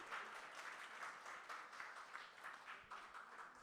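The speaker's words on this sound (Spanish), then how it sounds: "agradecemos a Margarita con un fuerte aplauso" Quiet applause from a small audience closing a literary conversation event, a soft, steady patter of clapping heard from some distance, with no speech over it.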